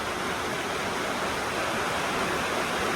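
Sabine Falls, a waterfall in the Otways, roars as a steady broadband rush of falling water, loud and unbroken throughout, with no voices.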